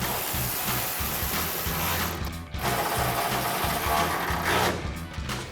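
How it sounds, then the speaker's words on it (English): A socket wrench tightens 10mm bolts into U-clips on a Ford F-150 EcoBoost exhaust install, with steady rapid ratcheting clicks close up that run almost continuously, pausing briefly midway. "take a 10mm socket and tighten them down"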